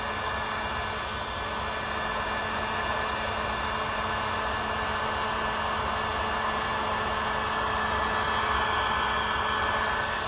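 A heat gun blows a steady, even hiss of hot air onto a kayak hull during a restoration, running continuously at moderate volume with no other sounds.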